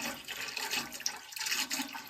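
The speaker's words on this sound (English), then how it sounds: "Will it flush again?" A toilet in a cabin water closet flushes, a close, rushing wash of water that swells and churns for a couple of seconds with no talking.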